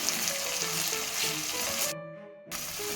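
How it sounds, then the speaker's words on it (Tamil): Onion and tomato sauté in a pan for a green turkey berry curry, giving a steady close sizzle with faint scraping. It drops out briefly near the end, then comes back. "இப்போ இந்த வெங்காயம் தக்காளி நல்லா வதங்கட்டும்"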